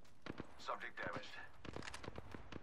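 Sharp gunfire bursts in the Apex Legends video game, a scatter of quick cracks through the clip, mixed under a game character's voice lines, fairly quiet overall.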